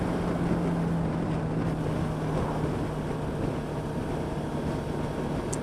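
Suzuki V-Strom 650 motorcycle pulling away in fourth gear, a steady low engine drone under heavy wind rush that holds level throughout with no talking.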